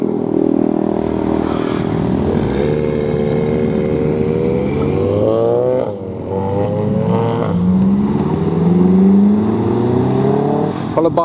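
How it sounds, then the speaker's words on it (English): Convoy of Ford cars led by a Golf 4 driving past at an RS owners' gathering, engines droning and revving as one car after another sweeps by up close, pitch rising and falling with each pass. "Nice little convoy coming down now, led by a Golf 4"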